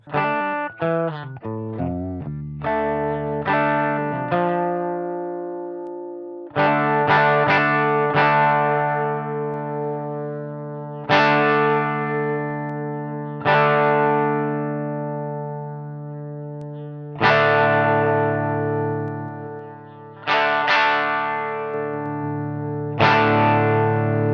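An electric guitar runs through a SONULAB StompStation multi-effects pedal, playing strummed chords and picked notes with a distorted, effected tone and long ringing sustain, loud and alone.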